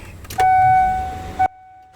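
A Kia Carnival engine, just refitted with a new timing belt, cranks with a steady whine and then catches and starts. The cranking sound is loud and close, and it cuts off abruptly.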